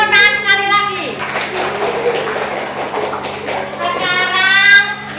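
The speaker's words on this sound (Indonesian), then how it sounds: "Tepuk tangan sekali lagi." Children in a classroom clap their hands together in a dense burst of applause, with a voice and other speech audible at the start and end over a steady background hum.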